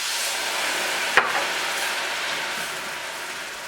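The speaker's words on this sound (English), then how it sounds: "Continue to whisk." Beer being whisked into a cheese sauce in a pan for Welsh rarebit: a steady, close hiss of stirring with one brief sharp clink of the whisk against the pan.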